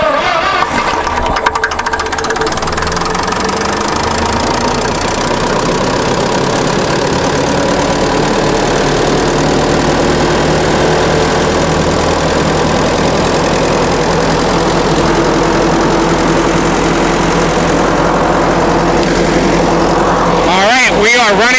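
An International Harvester UD9 engine cranks over, fires and settles into a steady idle on gasoline, a continuous low rumbling drone that holds level for roughly twenty seconds, with a brief louder burst near the end.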